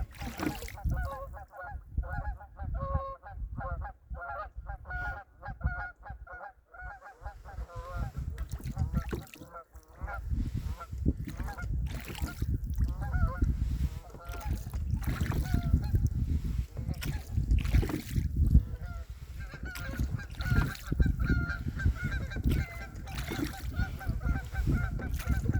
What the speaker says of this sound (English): Flock of Canada geese.